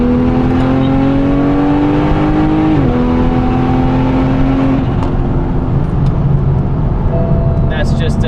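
A turbocharged BMW 340i accelerates hard at highway speed on a cold day, its loud engine drone rising in pitch, dropping briefly at a downshift around three seconds, then climbing again with a whistling turbo whine throughout.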